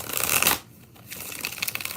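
Deck of cards being shuffled, a loud riffling burst followed by a brief pause, then a softer second run of flicking card noise, close and without talk.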